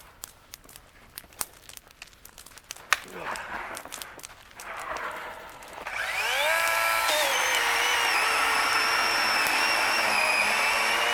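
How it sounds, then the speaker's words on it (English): An electric chainsaw cuts firewood at a winter cold-weather camp, its steady high-pitched motor whine swelling into a loud continuous cutting drone after scattered crackling handling noises. "The electric chainsaw is absolutely the way to go."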